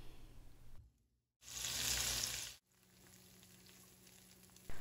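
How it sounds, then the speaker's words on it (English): Zucchini halves laid cut side down in hot oil in a pan burst into a loud, bright sizzle that holds for about a second before cutting off, then settles into a softer, steady frying hiss. "place the zucchini cut side down in the pan"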